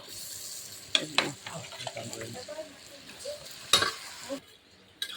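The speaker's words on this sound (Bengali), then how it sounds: "মাংস কষানো হচ্ছে, সামলাতে পারছি না, কাঠের জালটা এত জোর জ্বলছে।" Chicken cooking down in a pan over a fiercely burning wood fire, giving a steady close sizzle broken by sharp scrapes and clanks of stirring, with a voice talking over it.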